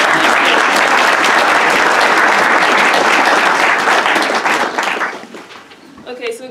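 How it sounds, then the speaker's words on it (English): A crowd claps at a mayor's event at a university, loud, dense applause sustained for about four seconds before thinning and fading, with a few scattered claps and a faint voice near the end. "Can I have a clap, please?"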